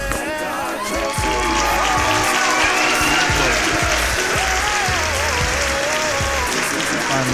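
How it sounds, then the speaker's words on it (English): Podcast audience bursts into loud, dense applause with scattered whoops and cheers for a gospel singer, holding full and steady after a brief softer start. "we are going to give a big round of applause for my boy"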